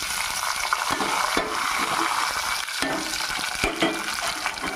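Sliced big onions, green chili and tomato fry in hot oil for a spicy chicken gravy, giving a dense, steady sizzle close up, with occasional stirring clicks and no voices.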